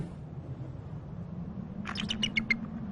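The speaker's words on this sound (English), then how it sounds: "she's screaming right now at the male, going, "Come and relieve me, come and take my place."" A female American bald eagle, snow-covered in harsh weather, gives a burst of high, rapid screaming calls near the end, about five quick piercing notes over a steady low wind-like rumble.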